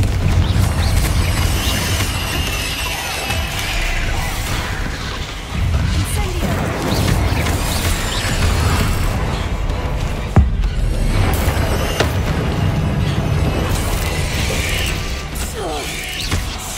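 Confringo spell blast in Hogwarts Legacy during a hard-mode fight, a continuous roar of booming, crashing and mechanical clatter with several sharp impacts, loud throughout.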